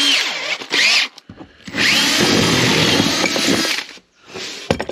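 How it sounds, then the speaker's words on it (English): A power drill bores through into a tank, the loud, steady whine running in bursts of about a second and then nearly three seconds, separated by short pauses, with a final brief burst at the end. "I hope I ain't gone too far and drilled a hole in my tank."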